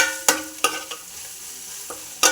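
A spoon stirs frying masala in a pan for Kerala-style fish curry, making a few sharp, close scrapes spaced irregularly over a faint background sizzle, with no talking.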